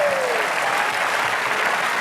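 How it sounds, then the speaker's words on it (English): Steady, dense applause from a theater audience greeting a guest called onto a stage, filling the whole stretch evenly with a brief whistle-like tone fading at the start. "Give her a big round of applause, everybody"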